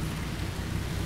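Steady, dense wash of heavy rain in the Left 4 Dead 2 map Yama, a constant broadband hiss with low rumbling underneath, loud and even throughout with no talk over it.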